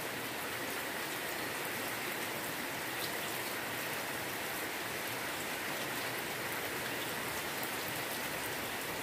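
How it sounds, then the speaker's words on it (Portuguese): Steady, heavy rainfall from an arriving thunderstorm in the Bahian sertão, Brazil, pours down continuously, a dense hiss of drops on surfaces filling the whole stretch with no voices. "Muita chuva."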